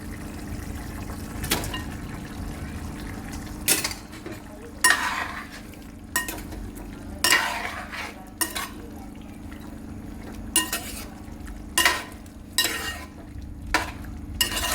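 Pieces of chicken stirred into a simmering gravy in a pan, with a low bubbling sizzle beneath repeated scraping and clinking strokes of a spoon against the pan, irregularly spaced.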